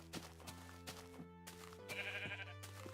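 Sheep bleat in a farming video game, a couple of short wavering bleats over soft steady background game music with light ambient chimes.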